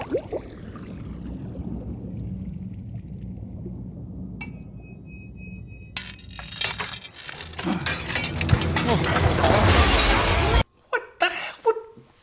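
Glass shatters in the animated film Rango, a loud broadband crash that builds after a quiet stretch with a brief ringing tone, then cuts off into a few scattered clinks, with voices nearby.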